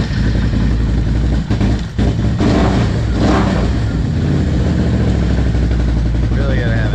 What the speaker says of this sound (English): we gotta crank that bike up